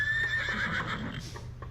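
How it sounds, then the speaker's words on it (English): A horse whinnies in a kitchen during a stage play, a loud, close, quavering neigh lasting about a second, followed by a few dull thumps. "there is a horse in the kitchen."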